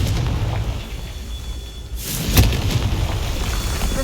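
A Confringo blasting spell detonates in Hogwarts Legacy, a single sudden boom bursting out of a low rumbling background and then trailing off into a sustained roar.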